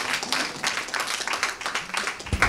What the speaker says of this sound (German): einen Applaus nochmal für unsere